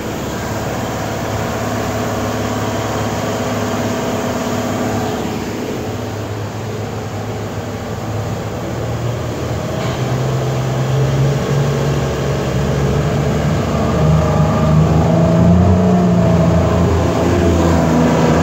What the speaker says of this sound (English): Go ahead and rev her up. She's in gear right now.